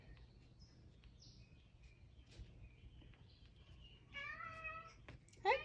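A house cat meows insistently for dinner, giving a couple of drawn-out, close meows near the end after a quieter stretch of faint chirps and room noise.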